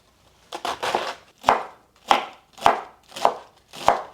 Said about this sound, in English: So I'm just going to remove the core and maybe cut this in half.